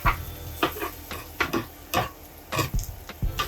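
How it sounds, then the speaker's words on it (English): Chopped beef and onions being stirred and turned on a hot griddle for a New York chopped cheese, with a steady sizzle and repeated scraping strokes of a spatula at close range, no talking. "And now mix our onions."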